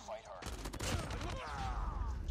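A quick burst of gunfire from the Call of Duty Mobile game, sharp cracks followed by a rattling volley that continues close and fairly loud for about two seconds, with faint talk underneath.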